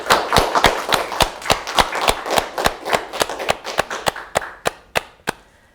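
Applause for a co-host at a virtual gala comes as a string of about twenty distinct, close claps. They start quick and uneven, then slow and thin out toward the end.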